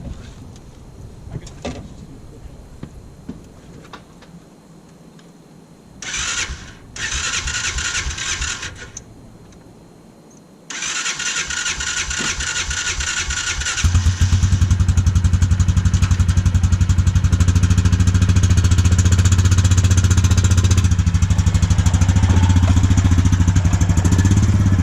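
A homemade ATV clatters and knocks at low revs for a while, then its engine starts and rises to a loud, steady close-up drone as it rolls down a home-built ramp.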